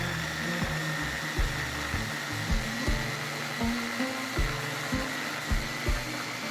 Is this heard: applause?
no